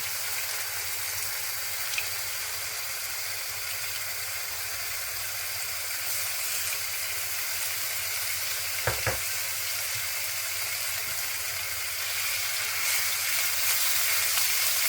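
Steady frying sizzle from ginger garlic paste in a pan over a low flame, a constant hiss with faint crackles throughout and a brief clink partway through.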